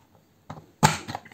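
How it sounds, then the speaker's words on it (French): A paper punch board, the 1-2-3 Punch Board, perforating paper with a stiff punch pressed down hard: a faint first click followed by a louder, sharper crunching snap, heard alone and close. "Alors la perforatrice est un petit peu dure, il faut bien appuyer."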